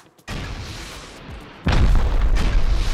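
Rocket explosions in a first-person shooter game: a sudden low boom, then a second, louder blast that rumbles heavily through the final second.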